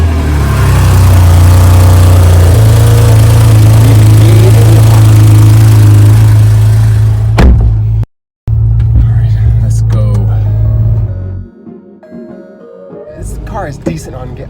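A Porsche 911 GTS engine runs with a loud, deep, steady drone, briefly cuts out, then returns at a lower level with a speaking voice over it.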